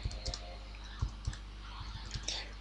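Someone types on a computer keyboard at a desk, entering a terminal command; a quick irregular run of close, crisp key clicks and heavier thumps, with no voice.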